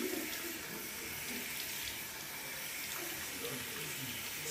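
Tap water runs steadily into a sink while hair is being rinsed, a continuous close hiss of flowing water with no talking.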